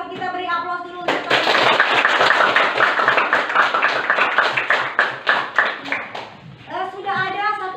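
A school class applauding, a burst of many hands clapping in a classroom that fades into slower scattered claps, with a voice talking before and after.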